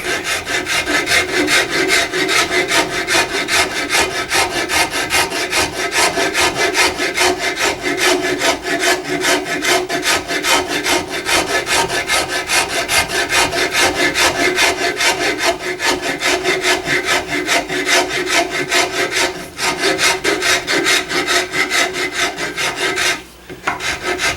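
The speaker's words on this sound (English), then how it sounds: "I think I'll go with the 49 rasp for this" A number 49 wood rasp works steadily back and forth across wood at a gunsmith's bench, a continuous close, coarse scraping rhythm with only a couple of brief pauses.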